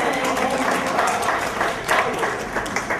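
An audience at a Hindi poetry recital claps for a short verse, a lively round of many hands at close range that keeps going steadily for a few seconds.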